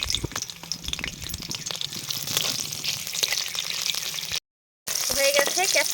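Capsicum sizzles in hot oil with a bright, continuous crackle close by. Light stirring clicks are mixed in, and a brief silent gap is followed by renewed frying.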